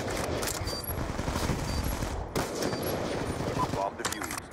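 Sniper rifle fire from a Ballista in a multiplayer shooter video game, a dense burst of gunfire and explosions with sharp reports around the middle and near the end, loud and continuous.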